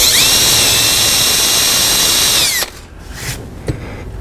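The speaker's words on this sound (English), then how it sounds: "So here I am drilling down a little bit." A power drill fitted with a hole saw bores a pilot hole into wood, whining loud and steady for about two and a half seconds before spinning down and stopping, leaving a few faint clicks.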